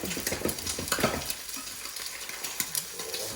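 An egg fries in hot bacon fat while oil is flicked over it, giving a crackling sizzle broken by scraping stirs and spatter bursts, loudest at the start and easing slightly afterward.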